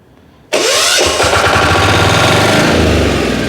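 A Motor Sich MB-12DE walk-behind tractor with a 12 hp diesel engine cranks and catches abruptly, then settles into a loud, steady, rough diesel idle close to the microphone.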